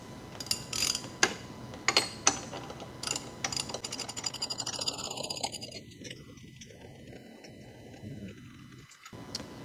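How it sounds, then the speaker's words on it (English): A hand ratchet works on the crankshaft pulley bolt of a 1986 Porsche 944 Turbo, giving quick clicking and scraping bursts up close, followed by softer mechanical sounds and turning. "Let me get a ratchet on that."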